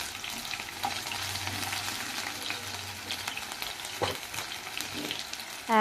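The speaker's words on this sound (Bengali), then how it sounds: "এগুলোও আমি ওই একইভাবে তেলে ছেড়ে দিয়ে আমি ভেজে নেব।" Marinated chicken pieces for chilli chicken fry in hot oil, giving a continuous close sizzle with occasional stirring scrapes and a brief clink near the end.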